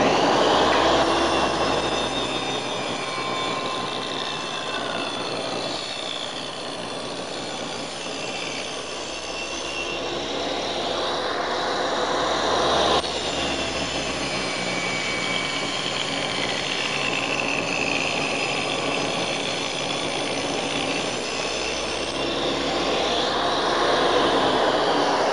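Triton saw bench with its blade buried in timber during a rip cut, a loud continuous roaring whine that swells and eases slightly as the wood feeds through, steady for the whole stretch with no talking.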